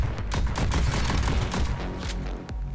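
Dense rapid gunfire from the VR shooting game Pistol Whip, a loud, nearly continuous fusillade of sharp shots and booms stacked over a throbbing music track, with no talk.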